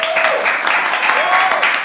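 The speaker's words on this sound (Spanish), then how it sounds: "vamos a darle una ronda de aplausos a este caballero." An audience gives a round of applause during a comedy show, with dense steady clapping at close range for the whole moment and a faint voice or whistle-like tone threading through.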